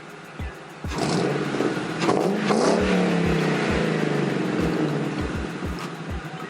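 A car with stock exhaust and the resonator deleted revs, rising into a loud raspy roar that holds and slowly settles, with a few sharp clicks or taps ticking through underneath.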